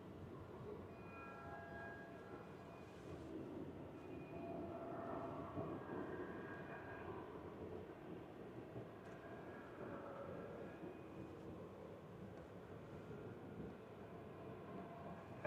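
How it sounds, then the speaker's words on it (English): An Aeromexico Boeing 737-800 on its takeoff run from the north side, a steady, distant broadband engine roar holding at moderate level throughout with no voices. "Air Mexico 737 heading over here for north side takeoff."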